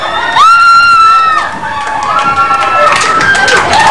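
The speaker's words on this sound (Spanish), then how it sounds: "Uno, dos, tres, y ahora grítenle, ahora fuerte ya." A group of children yell loudly together in a sustained, high-pitched shout, close and energetic, with voices overlapping.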